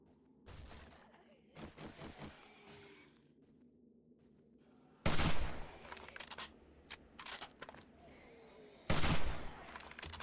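Hunting rifle in the zombie survival game 7 Days to Die, fired during a horde night as sharp, loud single shots spaced several seconds apart, with weaker thuds and impacts in between over a low background hum.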